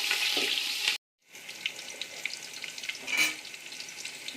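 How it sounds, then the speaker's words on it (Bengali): Cut potatoes frying in hot oil in a pan for chicken biryani, a steady close sizzle broken by a brief silent cut, then continuing with light stirring scrapes and crackles. "আলুগুলো একটু ভেজে নেব"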